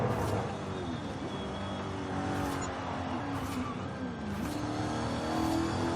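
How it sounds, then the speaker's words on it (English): An Alfa Romeo 155 engine accelerates hard in Forza Horizon 5, a loud, steady racing drone with pitch sweeps as it pulls through the upper gears, with no talking. "Kicks into sixth gear with decent power."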